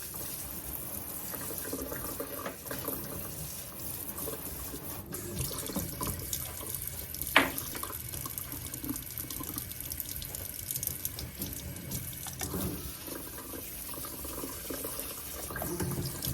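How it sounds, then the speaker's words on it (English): Water from a running tap pours steadily over a freshly repotted plant as it is rinsed, making a continuous splashing flow with occasional drips and clatters nearby, and no speech. "Water's coming out the bottom. I think I'll just give it one more little rinse."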